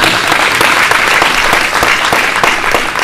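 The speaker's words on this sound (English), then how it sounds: "Make a round of applause for him." Workshop attendees at an anti-spam event in Djibouti give a round of applause, a dense, loud and even burst of many people clapping that continues throughout.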